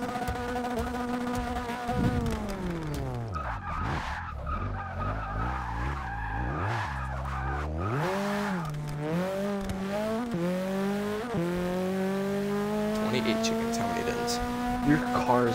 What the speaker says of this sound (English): Your car is making like the most terrifying noises.